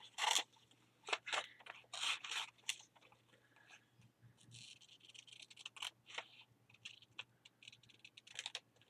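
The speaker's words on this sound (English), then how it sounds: "So I'm just going to do a rough cut right now." Scissors roughly cutting a paper picture for an altered book, heard as close, crisp crunching snips that come in quick bursts with short pauses between them and a faint low hum underneath.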